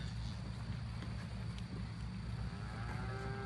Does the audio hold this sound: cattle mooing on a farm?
yes